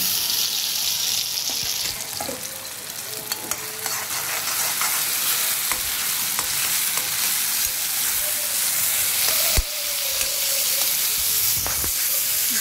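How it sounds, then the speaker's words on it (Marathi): Ground masala paste frying in oil for matar paneer gravy, a loud continuous sizzle and hiss with repeated spoon stirring and one sharp clank near the end, no speech. "हे वाटण आपण चांगलं तेल सुटेपर्यंत हे वाटण आपण आता चांगलं शिजवून देऊया"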